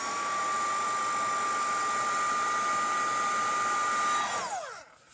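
A heat tool drying a handmade birthday card blows a loud, steady whirring hum that holds level, then winds down and cuts off near the end.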